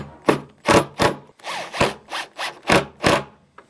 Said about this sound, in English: So I'm going to actually drill 2 other holes right here just to screw this in.